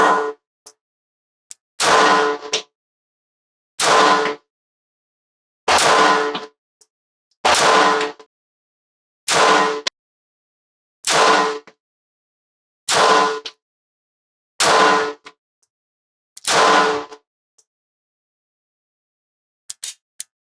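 Nine sharp gunshots ring out from a Beretta 84BB pistol fired at a target, spaced roughly two seconds apart in a steady rhythm, each a loud, crisp report with a brief ringing tail, followed by a faint click near the end.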